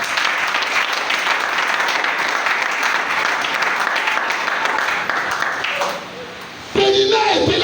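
Church congregation applauding in sustained, dense clapping that fades briefly near the end before a burst of louder sound returns; voices mingle in the background.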